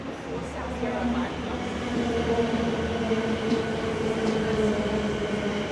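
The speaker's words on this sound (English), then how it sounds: "That train's just come from Sandringham." A suburban train rumbles through South Yarra station in Melbourne, its steady low drone and rail noise filling the platform at close range, with faint voices in the background.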